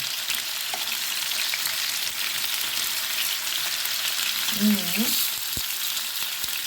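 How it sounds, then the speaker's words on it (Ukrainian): Pork ribs sizzle steadily in a hot pan, a constant crackling hiss with a brief scrape of stirring partway through. "Гарно смажу реберця зі всіх сторін."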